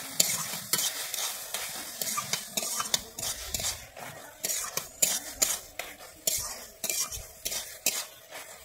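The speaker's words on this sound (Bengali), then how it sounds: "তেল দিয়ে আমি এটাকে ভালোভাবে নেড়ে নিচ্ছি" Thankuni leaves being stirred with raw mustard oil in a pan, a steady run of scraping, clattering utensil strokes over a soft sizzle, close and fairly loud, with no voices.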